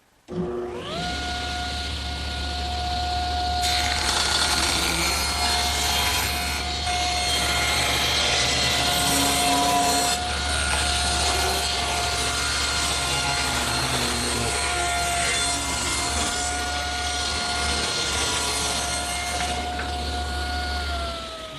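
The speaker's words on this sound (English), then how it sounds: "I think I'll set the saw at 3 1/2, just to remove a little bit from one edge" A table saw rips a thin strip from the edge of a wooden board, a loud steady whine with a deep motor hum, lasting about twenty seconds close up.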